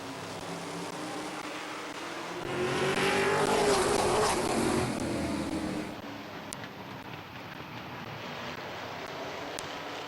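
At Midvale Speedway, a pack of race cars roars past down the front stretch under the green flag, swelling loud then fading to a distant drone.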